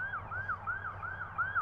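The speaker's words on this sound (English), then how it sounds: "There's an ambulance going by." A passing ambulance's siren wails in a quick, regular up-and-down yelp, about five cycles, fairly loud and clear over low traffic rumble near a public catfishing spot in Knoxville, Tennessee.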